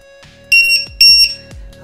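A LiPo battery voltage checker alarm for drones and RC gear beeps loudly in two shrill, piercing electronic bursts with a short gap between them, close and alone.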